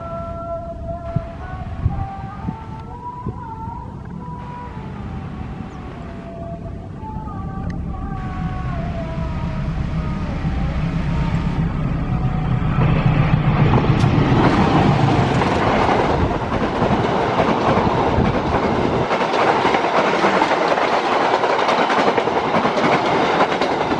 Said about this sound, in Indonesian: Kereta api Matarmaja ya sudah melintas di sini, sangat sebentar sekali ya melintasnya dengan begitu cepat.